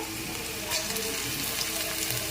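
Chopped garlic and onions fry over a low flame in a pan, giving a steady close sizzle that holds evenly throughout with no one speaking.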